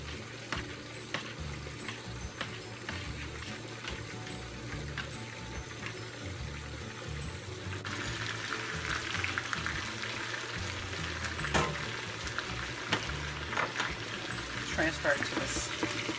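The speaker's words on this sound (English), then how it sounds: "My broccoli is boiling" Broccoli boiling in a pot of water, a continuous bubbling hiss with small pops and splashes that grows slightly busier partway through, heard up close.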